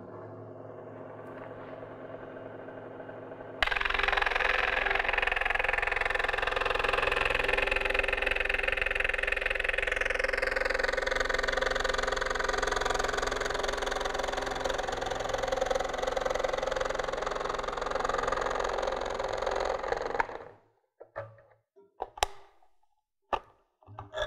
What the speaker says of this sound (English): We're going to go ahead and cut the basic final outline with the saw